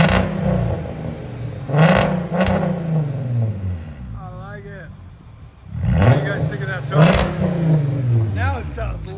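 A 2012 Volkswagen Passat with a 3.6-litre VR6 V6 and straight-pipe exhaust revs hard and loud in repeated surging bursts, with a lull between them, while someone talks nearby.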